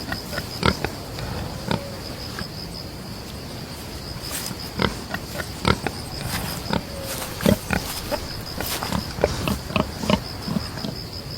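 A warthog gives short, irregular grunts and snuffling breaths, scattered and fairly close, against a steady outdoor background hiss.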